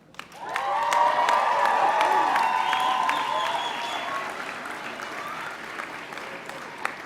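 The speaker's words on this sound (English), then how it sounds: "Now it's your turn, graduates, to applaud them" Graduates at a college spring commencement ceremony burst into applause mixed with cheers, rising quickly to a full roar and then slowly tapering while a few voices call out.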